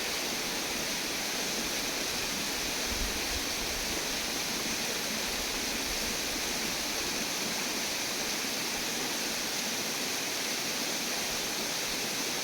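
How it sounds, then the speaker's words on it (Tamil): A steady, full roar of a waterfall in the Kolli Hills, India, pouring down without pause, loud and close, with no voices over it. "இந்த அருவியை பார்த்து ரசிங்க"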